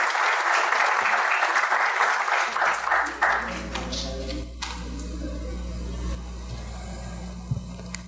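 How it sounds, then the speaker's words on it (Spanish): Audience applause for a speaker at an academic talk on gamification and information-skills training, dense clapping for about three seconds, then tapering into scattered claps and room murmur. "Adelante, un aplauso, por favor"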